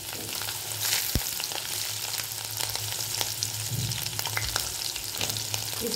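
Chopped garlic and green chili frying in oil in a pan, a steady close sizzle and crackle with occasional stirring clicks and scrapes, no talking.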